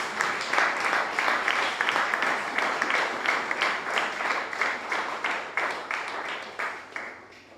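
Church congregation applauding at a sermon, a steady rhythmic clapping from many hands that holds for several seconds, then thins and fades toward the end.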